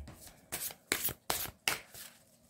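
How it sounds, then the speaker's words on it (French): Deck of oracle cards shuffled by hand before one is drawn, with four crisp riffle-like bursts in quick succession, close and soft. "On va se tirer une carte."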